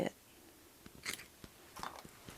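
A few short, crisp snips of small scissors cutting thin plastic into strips, spaced irregularly, close by and fairly quiet.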